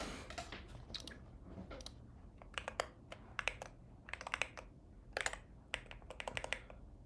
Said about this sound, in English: How are you typing so fast but nothing is happening?